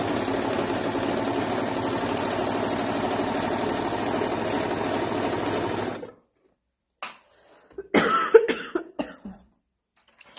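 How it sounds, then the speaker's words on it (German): A sewing machine hums steadily for about six seconds and stops, then a person nearby coughs a few times, short and sharp, with a brief throat-clearing in the otherwise quiet room. "Ich habe so ein bisschen Hustenreiz hier."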